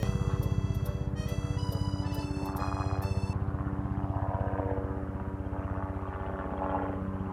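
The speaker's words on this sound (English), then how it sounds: "It's a really loud helicopter. Can you hear that helicopter?" A helicopter's steady, pulsing rotor chop drones loudly overhead at Universal Studios Great Britain, continuous throughout, with high beeping tones briefly layered over it near the start.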